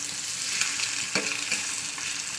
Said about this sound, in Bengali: শুধু লবণ দিয়ে ডিম ভাজা করি।